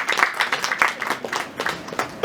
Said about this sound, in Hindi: एक बार हमारी इस टीम के लिए जरा जोरदार तालियां बजा दीजिए